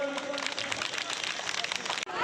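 Applause and clapping from an audience at a Trinamool Congress booth workers' gathering in Khoyrasol, Birbhum, a dense steady patter of many hands filling the space for about two seconds before briefly cutting off.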